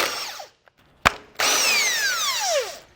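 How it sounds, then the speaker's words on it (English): Power tool with a 15 mm socket spinning bumper bolts off a 2024 vehicle during base plate installation: a short whir, a sharp click, then a longer whine that winds down in pitch, close and fairly loud, no talk. "for these 2, I'm going to take a 15 millimeter and remove them completely"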